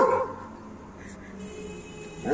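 A dog gives short, sharp barks at the beginning and end of a brief moment in an animated alphabet phonics song, with a quiet stretch in between.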